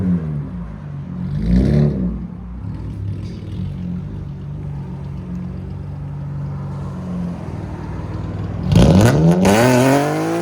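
A 2004-2008 Acura TL with a 3.2L V6 and an extreme aftermarket exhaust holds a loud, steady idle, blipped early on, then snaps into a sharp, aggressive rev near the end, close to the microphone.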